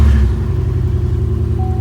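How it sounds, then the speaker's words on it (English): A 2007 Chevrolet Impala SS engine rumbles at a steady low idle just after starting, loud and close with a deep droning hum and no talk. "we'll start her up"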